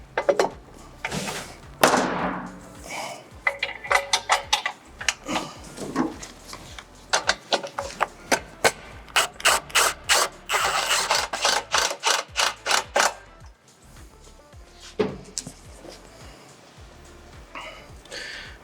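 A ratchet fastens the side mounting bolts of an aluminum skid plate on an RX3, giving rapid close bursts of clicking and metallic knocks in irregular runs with short pauses between them.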